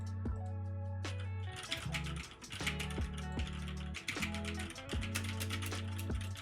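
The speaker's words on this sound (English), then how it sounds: "Typing goes straight into the search bar." Keys clatter on a computer keyboard in quick irregular bursts, close and clear, over a low steady electronic hum with musical tones in the background.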